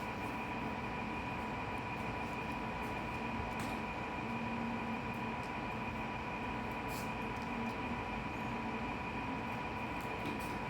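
A freight train with an SD60 locomotive rolls past in Arizona, giving a steady, loud rumble with a sustained mechanical hum and tonal whine that runs unbroken through the whole stretch.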